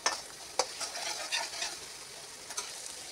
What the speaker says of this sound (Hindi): इहनूं उदों तक मठे मठे सेक ते भुज्जी जाणा जदों तक तेल नहीं छड़दा।